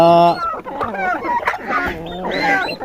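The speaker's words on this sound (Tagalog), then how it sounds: "Pakainin natin ng kanin yung ating sisiyo na pabo mga lode" Turkey chicks pecking at rice, with a chorus of close, high peeping and chirping calls and some light rustling, while a person talks nearby.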